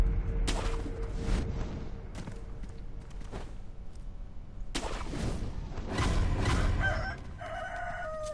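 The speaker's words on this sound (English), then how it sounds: "Oh no, chickens." Chickens in the video game Sekiro give out loud squawking, crowing-like calls in bursts, rising over a constant layer of game ambience and movement noise, with the loudest calls toward the end.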